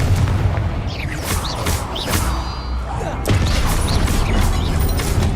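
A Confringo spell blasts in Hogwarts Legacy, a rolling, booming explosion under a steady game soundscape, with a few sharp bursts and a heavier thump partway through.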